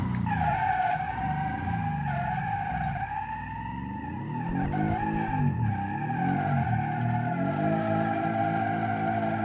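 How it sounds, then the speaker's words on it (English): A Trabant in the driving game BeamNG.drive skids under handbrake with the throttle on, tires squealing loudly and continuously over a droning engine, the pitch wavering through the slide. "Handbrake on, throttle on, and doing some nice skids."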